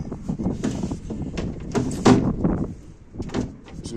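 Wooden door of a pigeon nesting box clatters and knocks as it is opened and handled nearby, with scraping and thumps in uneven bursts.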